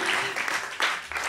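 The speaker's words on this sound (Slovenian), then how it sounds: "Si zasluži en aplavz, ne?" Audience applause for a guitarist at a live jazz club performance, a steady wash of many hands clapping close by, sustained and fairly loud throughout with a faint voice underneath.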